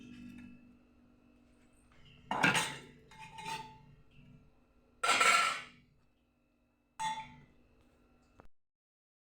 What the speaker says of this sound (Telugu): పాలు ఇలా మంచిగా తిప్పుకోవాలి